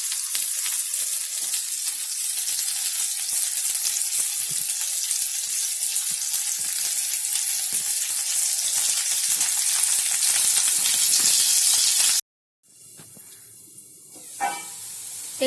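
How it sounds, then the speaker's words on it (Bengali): Potatoes frying in a covered pan with salt while cooking shukto give a dense, even sizzle for about twelve seconds, then it cuts out abruptly and a quieter clatter follows, with no voices. "নুন দিয়ে আমি অনেকক্ষণ ভালো করে ভেজে নেব।"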